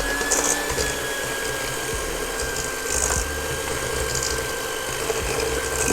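Electric mixer whisking eggs with brown sugar for an orange sponge cake, a steady loud mechanical whir running throughout without a break, with slight periodic swells as the beaters move through the bowl.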